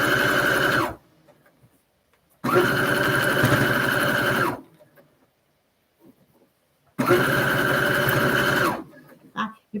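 A sewing machine stitches a seam in three separate runs, each a loud, fast mechanical whir that starts and stops abruptly, with quiet pauses between the bursts.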